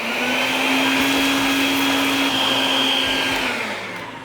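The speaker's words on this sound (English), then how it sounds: "Clean the area using a vacuum if there's any debris." A vacuum cleaner runs steadily while sucking up broken glass and ceramic debris from a stove frame during a glass cooktop replacement, a loud, continuous whining drone that fades slightly at the end.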